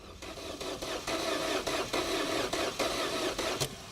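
Opel Tigra engine being started, heard as a steady whirring with regular rhythmic pulses, like the starter cranking repeatedly, close and fairly loud.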